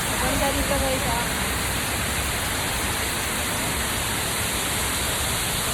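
Waterfall at Khorfakkan, UAE: a steady, loud broadband rush of falling water, continuous throughout, with faint voices briefly under it at the start.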